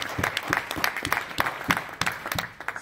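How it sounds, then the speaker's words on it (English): A crowd claps steadily for about three seconds, dense applause with scattered louder claps, tapering slightly toward the end. "Let's give him another round of applause"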